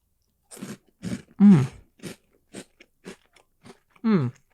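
Snack chips eaten close to the mic, giving a series of loud, sharp crunching bites spaced out over a few seconds, with mouth and throat noises between them and no talk.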